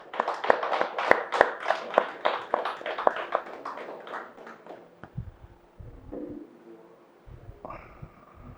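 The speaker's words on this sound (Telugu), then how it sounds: "So friends, claps to the pyramid centre." An audience at a pyramid meditation centre workshop claps in a quick, brisk burst of applause that tapers off after about five seconds, followed by quieter room sounds and a few stray taps.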